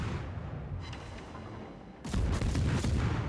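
Warship guns firing shells in a naval video game: a low, rumbling background gives way to a sudden heavy boom and sustained crackling roar of salvos, loud and close.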